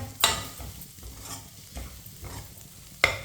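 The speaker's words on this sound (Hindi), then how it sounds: "इसे ऐसे ही चम्मच चलाते हुए पकाएं" Vermicelli roasting in a pan while a spoon stirs it: a soft, steady sizzle carries scraping strokes that come in a slow rhythm, with a few sharper clinks of the spoon against the pan.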